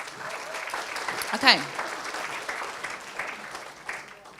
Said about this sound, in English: Big round of applause for Edwin.